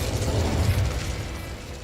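A fire spell erupts in Hogwarts Legacy, a loud whooshing burst with rumbling, popping flame that swells at the start and tails off over about two seconds.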